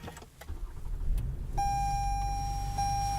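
A 2018 Toyota Camry XSE V6 engine cranks and catches, settling into a steady idle, joined by a sustained electronic chime tone.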